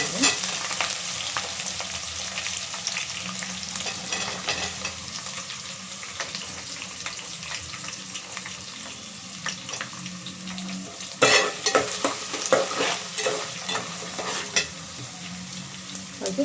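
Onions and green chillies frying in a pan for vangi bath, a steady close sizzle with a burst of louder crackling and spoon scraping partway through, no one speaking.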